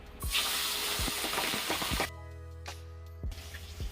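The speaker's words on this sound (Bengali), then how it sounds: "তো এই যে আমি এবার মাছগুলোকে আমি ভেজে নেবো।" Tangra fish frying in oil in a wok, a loud crackling sizzle for the first two seconds with sharp pops, then quieter with a low hum and occasional clinks.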